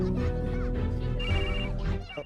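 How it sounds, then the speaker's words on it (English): Phone ringing with an incoming call in an anime scene, a steady electronic ring tone repeating in short trilling bursts, loud and close over the backing soundtrack. "he receives a call on his phone"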